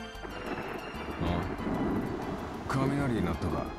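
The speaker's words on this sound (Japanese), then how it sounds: "雷になったか。" Thunder rumbles and rain pours in a dating-sim video game set near a sea cave, a loud, continuous storm wash with heavy low rumbling swelling twice, while game music and voices play over it.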